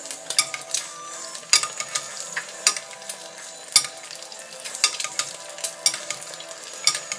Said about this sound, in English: perfect fried egg.